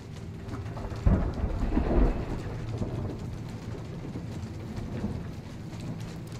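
A thunderstorm in the video game Shadow of the Tomb Raider, with a deep thunder crash rolling out over steady, heavy rainfall that continues as a constant hiss, no voices present.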